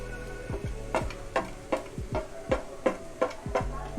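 Spices sizzling and frying in a pan for samosa filling, with repeated stirring strokes scraping through at a steady rhythm, close and moderately loud, no talking.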